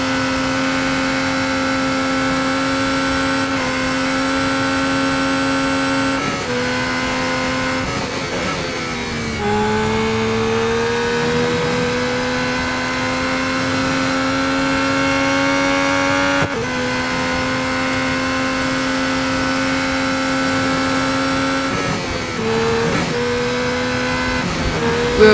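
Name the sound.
F1 race car engine sounds from video game Real Racing 3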